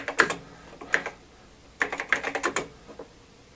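Bursts of key presses clatter on an Osborne 1 computer keyboard, a few quick clusters of close, crisp clicks separated by short pauses, with no talking.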